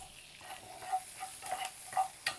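Chopped onion and garlic sauté in a pan with a steady close sizzle, broken by a few brief stirring scrapes and clicks of a utensil.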